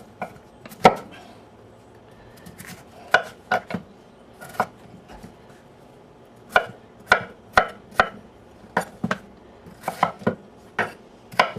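Knife chopping food into rough chunks for pulled pork on a board, a series of sharp, close knocks in irregular clusters with short gaps between them, no voices.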